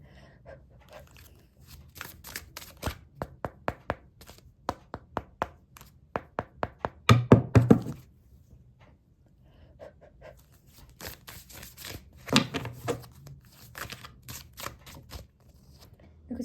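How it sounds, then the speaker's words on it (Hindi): Tarot cards being shuffled by hand, giving a run of quick, dry riffling clicks and papery bursts with short pauses, fairly close and quiet, with no speech. "कार्ड्स भी शफल कर लूँ।"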